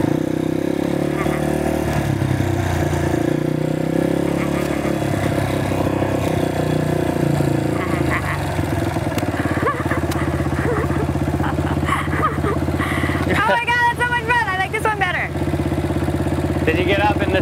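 A dual sport motorcycle engine runs steadily on Maui while its rider trains to downshift, rising into a wavering rev near the end. People talk throughout over the engine.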